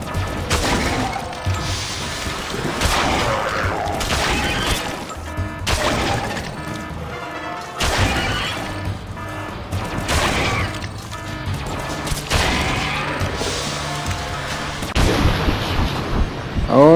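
Pistol gunshots in the shooting game MIB Galaxy Defenders, a run of loud, punchy shots and impacts repeating every second or two over a dense, continuous game soundscape.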